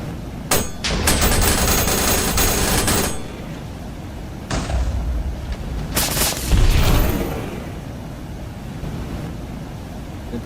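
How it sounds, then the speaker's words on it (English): Smart missiles fire from an Iron Man suit in Minecraft, a rapid crackling burst of launches followed by loud booming explosions, a short pause, then another sharp blast and a fading rumble. "Simply you launch the missiles, it'll find the nearest mob and kill it"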